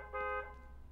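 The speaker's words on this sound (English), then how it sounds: "Why they honking?" A single short, steady car horn blast sounds in a horror video game, moderately loud and slightly distant, then fades into quiet ambience with no talk.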